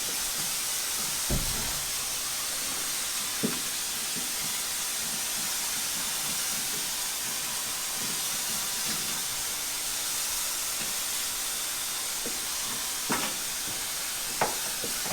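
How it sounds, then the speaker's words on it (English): Steady water mist spraying onto a spalling concrete basement wall, a continuous soft hiss with a few faint knocks and taps, close and moderately quiet, with no talking. "like using a mist, you want to get your wall good and wet"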